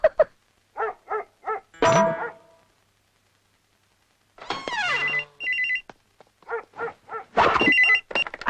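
Old-style telephone bell ringing in repeated short bursts, loud and close, with a dog barking in between and a pause of silence midway; no speech.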